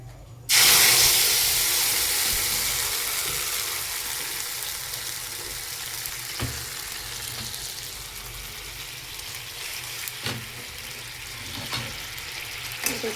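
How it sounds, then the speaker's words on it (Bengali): Tomato paste hits a hot pan for paneer masala, starting with a loud, sharp sizzle that slowly settles into a steady frying hiss, close up with a few faint clinks and no talking. "এটাকে ভালো করে ভেজে নেব"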